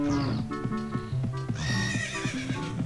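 Several horses at the ranch in The Legend of Zelda: Ocarina of Time whinny and neigh repeatedly over steady clip-clop hoofbeats, loud and close, with overlapping calls and no talk.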